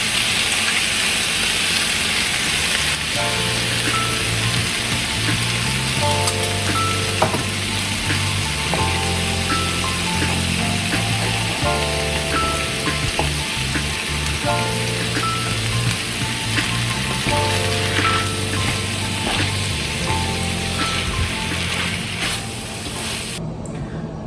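Egg roll filling of cooked vegetables and pork sizzles in a frying pan as a gravy mixture is poured in, a steady moderate hiss with intermittent clinks and stirring sounds, close by and without voices.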